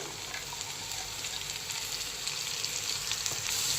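Bitter gourd pieces fry with onions in a pan, giving an even, close sizzle that holds steady throughout, with a few soft stirring touches.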